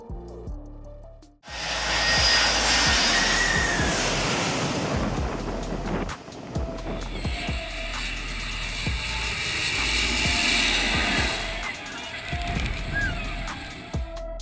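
A low-flying airplane's engine roars loudly and steadily over a beach, mixed with heavy wind and surf noise, swelling and fading through the pass, with a brief voice near the end.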